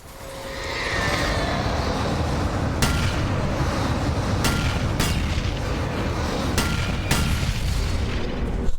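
A flashbang in the Alan Wake game sets off a sustained, loud roaring blast with a rumbling wash. Several sharp cracks and bangs punch through it at irregular intervals over about nine seconds.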